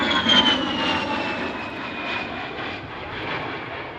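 An A-10 Warthog jet roars overhead at an international air show while flying a Cuban 8 aerobatic maneuver, a loud, steady engine whine with a slowly falling pitch, close and continuous throughout.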